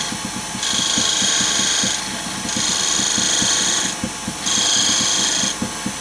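A lathe turning a wooden chess queen, a rapid rattling whir of the spinning workpiece with three long bursts of the cutting tool biting in, each lasting over a second, close and fairly loud.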